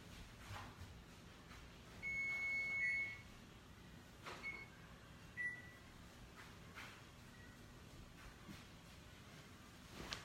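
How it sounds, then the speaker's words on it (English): Faint repeated electronic beeps, a short cluster followed by a few single beeps, under quiet room noise with no talking. "go shut the timer off that's beeping because it's not going to stop beeping"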